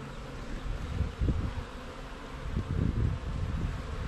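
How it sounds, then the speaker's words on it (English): Honey bees buzz continuously at an open beehive in an Alaskan yard during a summer hive check, a dense, steady swarm drone with soft swells and rustling, and no talking. "And the bees are just in there working it, that's good."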